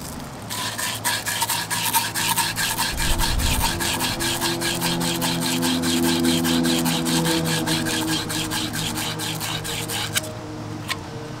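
Aluminum oxide sand cloth rubbed steadily around the outside of a copper pipe end, a close, continuous raspy scrubbing with a fast back-and-forth rhythm that stops abruptly near the end.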